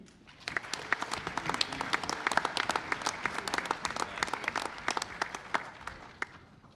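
A round of applause at a school board of education meeting for Johns Hopkins SAT scholars, many hands clapping in a busy, crackling patter, fairly faint and steady, tapering at the end.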